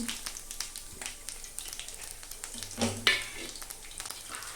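Mustard seeds, cumin, chana dal and urad dal tempering in hot oil for lemon rice, giving a steady close sizzle with scattered crackles and a sharper pop near the middle.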